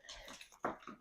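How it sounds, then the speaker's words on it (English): A pet dog makes a brief, quiet whimpering or yelping sound indoors, with a couple of short soft bursts in about a second. "sorry, that was my dog"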